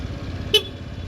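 A Yamaha Jog AY01 moped horn gives one short beep near the middle, loud and close against a low engine idle.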